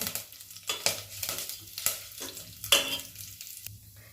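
Chana dal roasting in a pan with small onions and shallots, stirred in repeated scraping strokes about once a second over a soft sizzle, close and fairly quiet.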